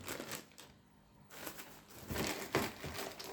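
A plastic bag of fish feed pellets, bought for feeding crayfish, crinkles and rustles up close in several short bursts with a brief quiet gap in the middle.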